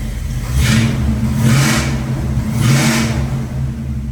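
A 1974 Dodge Challenger's engine revs up three times in close succession, each rise swelling and falling back over a steady rumbling idle, loud and close by.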